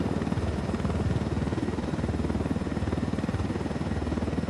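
A helicopter flies overhead during a Ghost Recon Wildlands match. Its rotor beats in a rapid, steady chop, loud and close, and continues without a break over the whole stretch with no talking.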